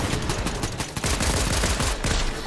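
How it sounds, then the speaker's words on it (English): Rapid pulse rifle bursts followed by pistol shots in a Fortnite match, a dense run of loud, close gunfire with repeated sharp transients over about two and a half seconds and no talking. "Yeah, the pulse rifle then switched to the pistol."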